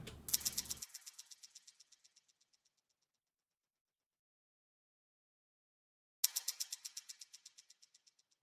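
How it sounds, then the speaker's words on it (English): Two percussive transition hits sample, each a sharp attack followed by a rapid decaying echo of repeated taps, the second arriving after several seconds of silence; no talking. "another transition sound."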